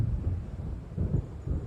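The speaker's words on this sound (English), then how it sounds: "It seems there's a storm coming." Low rumbling thunder from an approaching storm in the Alan Wake video game, a few rolling swells that rise and fade over a steady background, with no voices.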